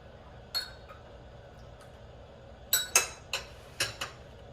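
A spoon stirs and clinks against a glass of tea, giving a few bright, sharp taps close by: one early, then a quick cluster of clinks with quiet between.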